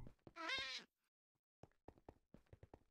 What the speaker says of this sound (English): Fucking ocelot in here.